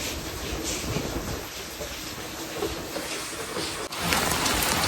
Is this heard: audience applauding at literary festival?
no